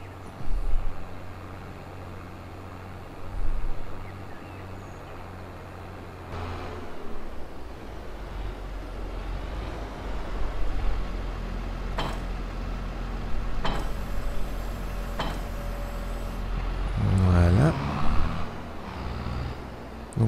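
Steady low engine hum of a tractor driving in the farming video game Farming Simulator 22, continuous throughout with occasional clicks and ticking mechanical noises layered on top.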